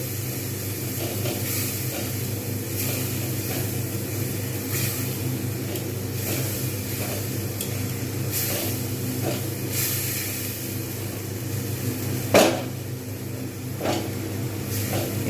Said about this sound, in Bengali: আর একটু ভালো করে কষবো